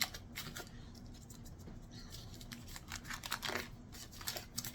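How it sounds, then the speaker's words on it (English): A stick of butter being unwrapped from its paper: close, quiet crinkling and scratchy rustling with little snips of paper tearing, steady throughout. "Let me go ahead and unwrap this one"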